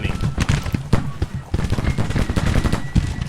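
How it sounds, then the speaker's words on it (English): Cannon and rifle fire in the Civil War strategy game Grand Tactician: The Civil War, a dense, continuous crackle of shots and booms with no pauses and no voices. "I think we can still get some hits with these two cannons"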